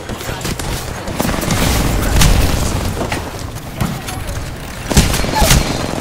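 Bursts of gunfire and booms in the video game Apex Legends, sharp cracks and heavier thumps scattered through a loud firefight, with brief voices mixed in.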